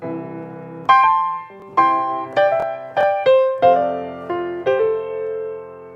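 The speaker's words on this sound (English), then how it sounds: "But if you add that slip note, it sounds like this." A solo piano plays a slow melody of struck notes and chords, each ringing out, with quick slip notes sliding into several of them.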